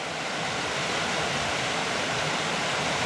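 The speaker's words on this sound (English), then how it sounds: "That's a beauty little waterfall." A small waterfall tumbling between two lakes gives off a steady, rushing hiss of falling water. The sound is constant and fairly close, with no voices.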